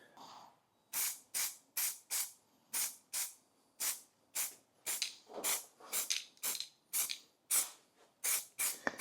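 Aerosol can spraying weld-through zinc primer on a car panel during a turbo engine refresh, in about twenty short hissing bursts that come in a steady rhythm, close and fairly loud, with no talk.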